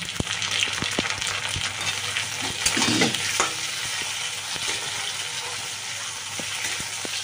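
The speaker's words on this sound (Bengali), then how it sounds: "ভেজে নিচ্ছি। পেঁয়াজটা দিয়েছি আমি তরকারিটায়।" Onion frying in a pan for a capsicum curry, with a steady loud sizzle and repeated scraping stir strokes throughout; no voices.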